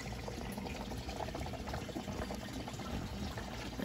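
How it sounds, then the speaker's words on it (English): Overflow water draining from the grow beds of an aquaponic system, a steady close bubbling gush and trickle that stays even throughout with no talking. "the overflow water coming out of the grow beds"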